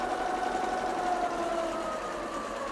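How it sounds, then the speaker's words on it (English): Halo-100 embroidery sewing machine stitching at 700 stitches per minute, a close steady whirring hum with a rapid even buzz and a faint tonal whine throughout. "Now this is currently running at, I can click that little button, at 700 stitches per minute."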